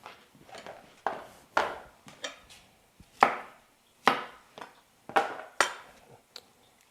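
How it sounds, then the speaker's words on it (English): A knife chops cauliflower into bite-sized pieces on a cutting board, giving a series of sharp, close, irregularly spaced cuts and board knocks with short pauses between them and no talking. "Our cauliflower, we'll cut them into bite-sized pieces."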